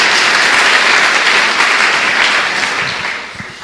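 Church congregation applauding in praise, a loud, sustained burst of many hands clapping that gradually tapers off toward the end.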